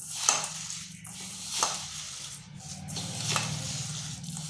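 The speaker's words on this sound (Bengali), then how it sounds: "এরপর নারকেল আর চিনি ভালোভাবে এভাবে কচটে কচটে মিশিয়ে নিতে হবে।" Grated coconut and sugar are squeezed and mixed by hand for narkel pitha, giving soft, close, irregular squishing and rustling strokes with small gritty sizzles of sugar.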